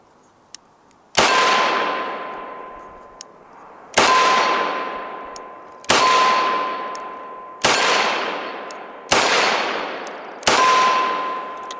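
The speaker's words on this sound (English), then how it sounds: "we're going to move over and shoot some steel, which is a lot more fun" Six loud Ruger GP100 Match Champion revolver shots fired at an outdoor range, spaced a couple of seconds apart, each followed by a ringing metallic clang from steel targets 25 yards downrange, with no talking.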